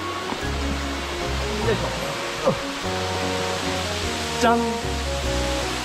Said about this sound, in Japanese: 百尋の滝です。